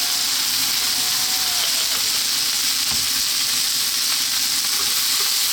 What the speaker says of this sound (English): staying on this high heat and moving it pretty much all the time